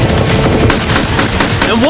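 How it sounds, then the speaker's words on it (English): Continuous loud gunfire pounds a cinder block wall, rapid overlapping shots forming a dense roar, with a voice briefly shouting near the end. "these guns are only the first of 4 phases we've designed to destroy this Lamborghini"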